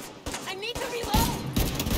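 Gunfire in The Division 2, several sharp bursts of shots landing close together over a busy game mix, with a voice talking through the action.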